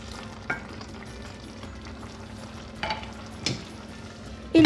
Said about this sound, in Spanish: ahora le vamos a agregar el queso. Vamos a mezclarlo.